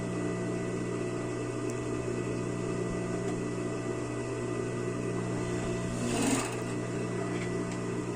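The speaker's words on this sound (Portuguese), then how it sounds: "Andei um pouquinho com a máquina só pra prender a pontinha do tecido lá" An overlock sewing machine stitches swimsuit fabric and elastic with a steady, continuous mechanical hum and faint rattle that runs unbroken, with a brief louder scrape near the end, close by and with no voices.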